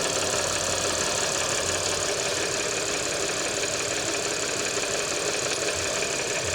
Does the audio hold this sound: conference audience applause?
no